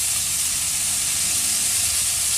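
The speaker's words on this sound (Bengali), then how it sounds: "লবণ হলুদ দিয়ে দেওয়া হলো এগুলোকেও একটু ভেজে নেওয়া হচ্ছে দেওয়া হলো একটু কাঁচা লঙ্কা বাটা" Steady hissing sizzle of frying in a pan with salt, turmeric and green chili paste, loud and continuous without pause.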